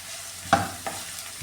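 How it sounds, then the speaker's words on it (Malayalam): Onions, shallots and green chili sautéing in a pan for koorkka mezhukkupuratti, a low steady sizzle broken by a few quick stirring scrapes, close, no voices. "ഈ ഉള്ളിയൊക്കെ നന്നായിട്ട് ഒന്ന് വഴറ്റിയെടുക്കാം ഇതിലിട്ട്"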